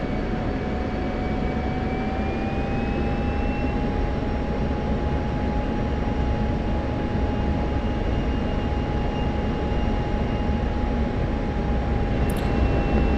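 Inside or near an F-16 fighter jet in flight over Syria, a loud constant engine roar and rushing hum with a faint rising whine, unbroken and without talk.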